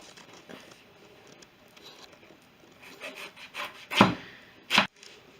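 A knife saws through a yellow-fleshed watermelon with soft rasping strokes that build into two louder crunching cuts near the end, close by and with no voices.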